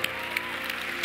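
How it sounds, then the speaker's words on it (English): Church congregation clapping during a service, a brief, steady wash of hands with a few sharper claps standing out, heard at moderate distance. "give God a clap offering in this place"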